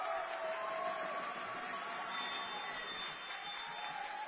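A home crowd at a partially sighted football match between Spain and England at the IBSA World Games 2023 cheering and applauding: a dense, sustained roar of voices and clapping, fairly distant, with a whistling tone briefly over it.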